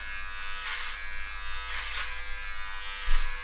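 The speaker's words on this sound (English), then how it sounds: "good little trimmer this" An electric hair trimmer buzzes steadily while cutting hair during a home haircut, a close, continuous hum that swells slightly in strokes as the blades pass through the hair.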